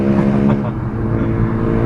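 Cabin of a Daihatsu Granmax pickup creeping along at low speed, a loud steady engine hum and drone heard from inside, with no talking.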